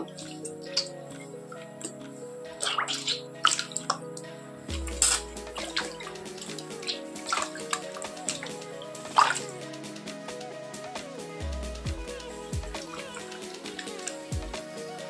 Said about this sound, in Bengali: ময়দার ডোটার উপরে আমি জল দিয়ে দিচ্ছি।